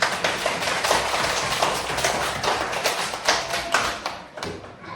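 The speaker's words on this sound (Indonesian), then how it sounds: "Tepuk tangan dulu." Second-grade pupils clap their hands in a Catholic religion class, a dense, quick patter of many small claps filling the room for several seconds and thinning toward the end.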